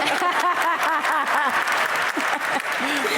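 Audience applause at a live panel debate on feminism, steady and dense throughout, with cheers and whoops riding over the clapping.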